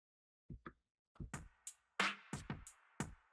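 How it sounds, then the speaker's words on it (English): A drum pattern with its low end cut by EQ gives thin, papery hits in a sparse uneven rhythm, snappy and bright with little body, heard clearly and without voices. "I'm going to take out all the low part of the drums, and now the drums sound like this."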